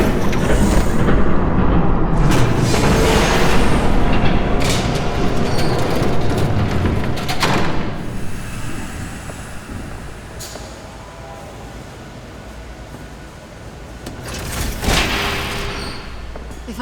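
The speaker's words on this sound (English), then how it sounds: "There's a train coming." A train rumbles past in a Batman: The Telltale Series game scene, a loud, steady low roar sustained for several seconds before fading, with sharp bursts and clatter near the end.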